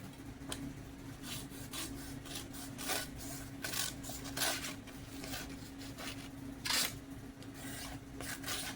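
A sharp knife cuts through material in a run of quiet, close rasping strokes that repeat unevenly against a soft background.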